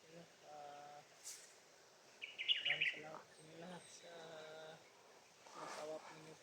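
A crow calls several times outdoors, a few short harsh caws standing out against other faint bird chirps and quiet voices.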